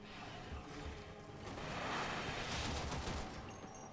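Gunfire in the video game Warframe: a dense, sustained burst of shooting with swelling, crackling intensity, moderately loud and continuous throughout.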